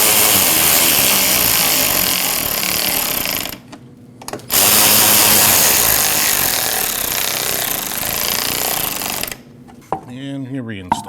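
Ratchet snugging two 7mm bolts on a rear strut mount of a 2014-2023 Jeep Cherokee, a loud, steady run of rapid clicking that pauses briefly midway, with a short spoken remark at the end.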